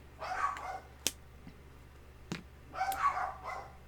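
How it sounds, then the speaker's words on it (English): Several dogs barking in bursts, with clusters of yips and barks around the start and again near the end, separated by a few sharp isolated knocks; moderately loud and fairly close indoors. "I'm gonna wait until the dogs start barking."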